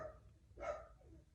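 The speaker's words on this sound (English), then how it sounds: "My dogs are going off." Dogs bark indoors, with one short, fairly muffled bark standing out in the middle over quiet background noise.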